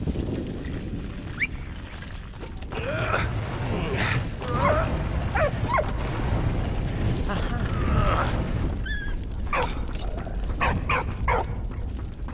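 A dog whimpers and barks in the game Valiant Hearts, with short high yelps and whines over a rumbling wartime backdrop of booms and explosions.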